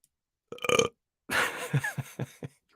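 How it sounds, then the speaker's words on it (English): A person burps close to the mic, one short belch followed after a pause by a longer, drawn-out burp that breaks into several gulping pulses. "I have to burp"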